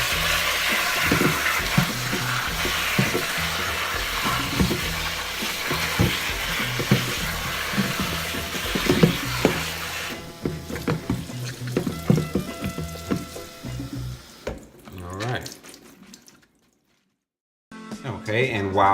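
Vegetables being rinsed under cold running tap water in a home kitchen, a steady loud rush of water with clattering handling sounds that fades to quiet near the end, with some talking.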